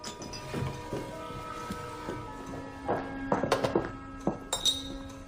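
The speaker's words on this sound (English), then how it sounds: "why don't you pour Tilly a glass of claret?" Glass and bottle clinking while claret wine is poured at a table, with a steady room tone, a few sharp chinks and taps clustered near the end, close and moderately loud.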